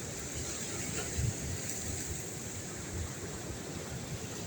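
Steady roar of rough monsoon sea surf at Harihareshwar beach with constant wind noise buffeting the microphone, a dense broadband wash with no voices.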